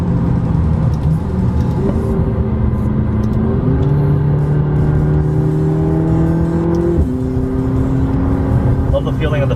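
A 2017 McLaren 570 sports car engine pulls hard under acceleration, its loud steady drone rising in pitch through several gear changes, heard from inside the car with a voice speaking over it.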